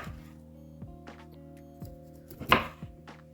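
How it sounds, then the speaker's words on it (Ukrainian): A knife cuts mackerel into pieces with a few sharp, close chopping knocks spaced irregularly, the loudest near the end, over a low steady hum. "І знову нарізаємо рибку."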